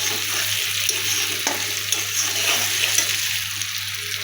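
Paneer pieces stirred in a frying pan with a little water, giving a steady close sizzle and bubbling hiss with occasional light scrapes.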